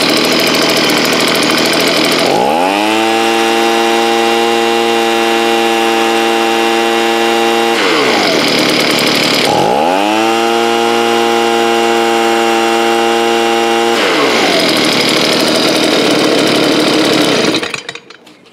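A Stihl BG 55 leaf blower's two-stroke engine, recently adjusted after it would not rev up, loud and close, settling to a low throbbing idle, revving up twice between idle stretches, then cutting off at the end.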